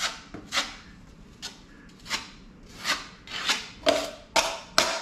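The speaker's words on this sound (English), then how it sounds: "Now you can take off some of this excess stuff, wipe it into your pan" A drywall knife scrapes thick excess joint compound off into a mud pan during a drywall hole repair, a series of sharp, separate scraping strokes at an uneven pace, close and fairly loud with no voices.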